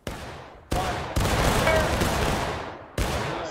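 Musket volleys fired on command in a battle game, four sharp massed blasts in sequence, each followed by a long rolling, decaying rumble.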